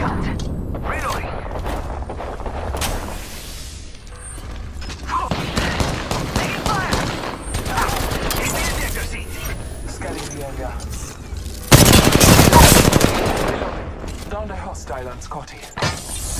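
Gunfire in the video game Apex Legends on the King's Canyon map at night: repeated bursts of shots and weapon mechanism clicks, with a loud, dense volley near the end, under a character's voice lines.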